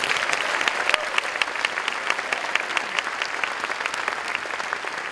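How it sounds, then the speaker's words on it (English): A graduation-ceremony crowd at a performing arts high school gives a big round of applause for honored finalists, a continuous even wash of many hands clapping at moderate level, sustained for the whole span without talk. "Let's give them all a big round of applause"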